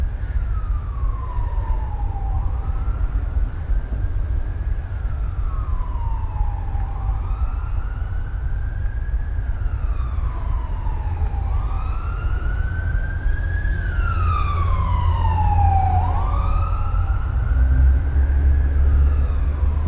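Emergency vehicle sirens wail as they pass along a street, rising and falling in repeated long sweeps over a low rumble of traffic, growing louder and layered near the end.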